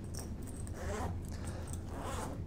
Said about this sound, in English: We'll open every zipper just to make sure there's nothing in it.